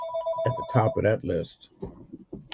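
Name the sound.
telephone ringing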